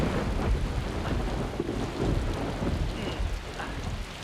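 Thunderstorm with heavy rain as a movie sound effect: a dense, steady roar of downpour with deep rolling thunder underneath, loud and continuous, with no voices.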